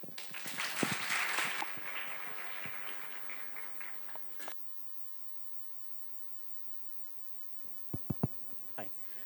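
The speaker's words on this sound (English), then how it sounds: "Let us give them a huge round of applause." An audience claps after an Indian classical dance performance, and the applause is busy and strong at first before tapering off and cutting out midway. Quiet room hum and a few sharp knocks follow.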